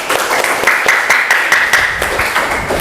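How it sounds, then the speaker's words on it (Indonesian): A crowd claps steadily for a few seconds, dense applause with many overlapping hand claps, fairly close and loud. "Beri tepuk tangan untuk Renar."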